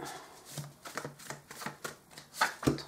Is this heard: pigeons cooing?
no